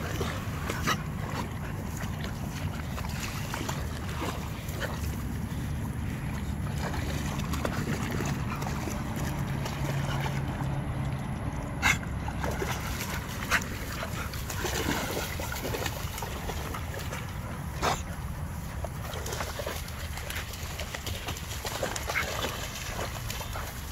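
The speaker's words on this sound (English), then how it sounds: "Just some pit bulls swimming." Pit bulls swim and splash through water in an open field for a long stretch of continuous sloshing and paddling. Occasional sharper splashes and faint dog whimpers or bark-like sounds rise over it, with no talking.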